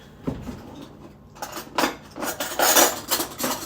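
A spoon scrapes and clinks inside a jar of kefir grains, a run of irregular close scraping and light knocks that grows busier toward the end.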